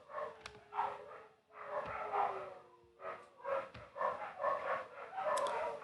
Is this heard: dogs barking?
yes